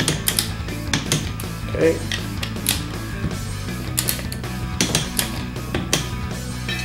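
Ratchet and torque wrench clicking as bolts are tightened during an air spring install on a 2017 Ford Super Duty F350, with bursts of close mechanical ratcheting and a person speaking briefly.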